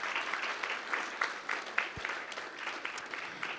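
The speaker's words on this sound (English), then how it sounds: "Can we get applause, please?" Audience at a startup competition claps with a modest, somewhat thin applause of scattered, fairly even hand claps that continues without building or fading.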